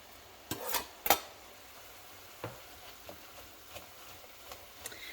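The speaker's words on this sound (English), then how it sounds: "Get the onions in. I'll give that a stir" Chopped onions stirred in a hot pan, a low steady sizzle broken by a few sharp clacks and scrapes of a utensil against the metal.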